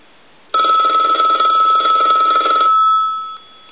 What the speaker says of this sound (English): I want to go ahead and ring the telephone